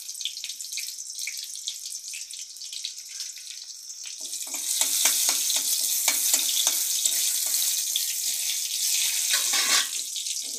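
Whole cumin and panch phoron spices hit hot oil and sizzle, a steady bright hiss that swells louder midway and carries on continuously with small crackles.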